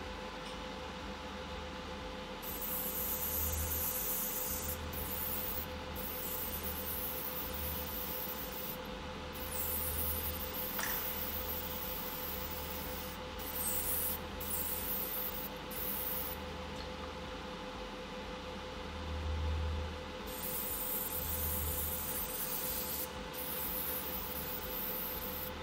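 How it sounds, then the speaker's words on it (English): A hobby spray booth runs in the background while Ork miniatures are painted, giving a faint, steady whooshing hum with a low drone and intermittent high airy hissing bursts layered on top. "It is a spray booth."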